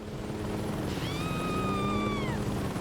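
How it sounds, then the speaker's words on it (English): A helicopter in the Saints Row 2 video game whirs steadily overhead, a continuous rotor drone with a rising and falling whine, loud and unbroken throughout. "I hear a helicopter."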